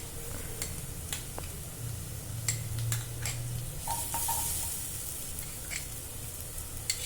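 Onions with garlic, chili and masala are stirred in a sizzling pan, a soft continuous fry hiss broken by scattered spoon scrapes and taps against the metal.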